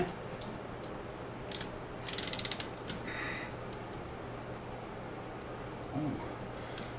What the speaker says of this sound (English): you can see that we're really turning these fasteners a lot